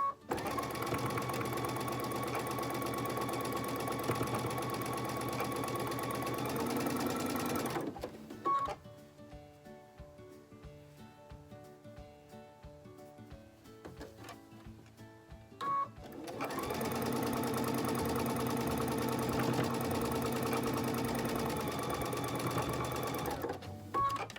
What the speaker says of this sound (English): I'm also going to chain piece these.